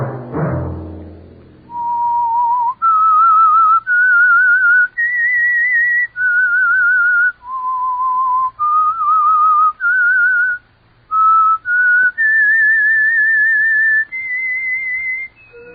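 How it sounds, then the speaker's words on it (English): Someone whistles a clear, steady melody, sustained notes rising and falling in distinct phrases with brief breaths between, alone and close. "Let that whistle be your signal"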